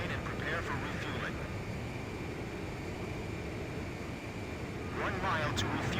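A fighter jet engine roars steadily in flight in the Ace Combat 5 video game, a constant loud broadband rush that fills the whole clip, with faint radio chatter-like bursts near the start and end.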